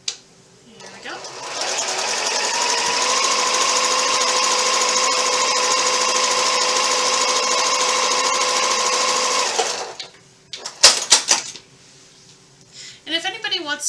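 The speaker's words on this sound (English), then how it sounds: "I'm going to sew the second one" A sewing machine stitches starched quilt block fabric for an Ohio Star block, running in one long steady loud whir for several seconds before stopping, followed by brief handling clicks and rustles.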